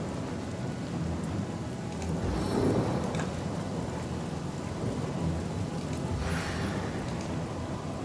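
A rain spell with thunder cast in the Divinity: Original Sin video game: steady, dense rainfall fills the whole stretch, with two deep rumbling thunder swells rising near the start and again toward the end.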